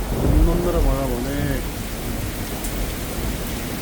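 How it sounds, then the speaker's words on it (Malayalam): Heavy rain pours steadily at night during a storm in Dubai, a dense hiss with deep thunder rumbling low throughout; a voice speaks briefly at the start before the downpour carries on alone. "ഒന്നൊന്നര മഴ പോണേ."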